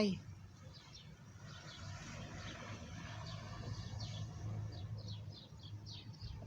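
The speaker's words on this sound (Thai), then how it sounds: "เสียงนกกระจิบมันห้อง" Small birds chirp in quick scattered bursts over a low rumbling background on a snowy day in France, fairly faint and somewhat distant.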